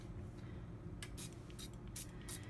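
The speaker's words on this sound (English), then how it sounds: "I'm going to use a little bit of olive oil spray to spray the grill and spray the asparagus." Olive oil spray misted onto a grill and asparagus: a few short, soft hissing bursts, close but quiet, over a steady low background hum.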